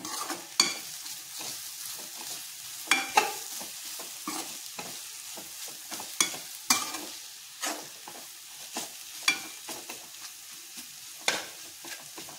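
Thecha, a crushed chili paste, sautéing in oil in a pan, with repeated sharp scraping strokes of a spatula at an uneven rhythm over a soft, continuous sizzle, close and with no talk.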